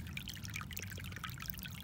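Outdoor water flowing and trickling in an autumn woodland setting, a steady soft splashing pour with small bright drips, faint and continuous with no voices.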